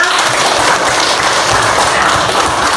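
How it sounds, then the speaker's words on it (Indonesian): Applause from a classroom of students after a lesson, a dense steady patter of clapping running evenly throughout without pause. "Untuk tepuk tangan untuk kita semua."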